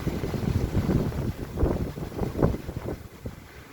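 Steady lodos (southwesterly) wind roars and gusts against the microphone on a balcony in cold weather, with low rumbling buffeting rising and falling throughout, no voices.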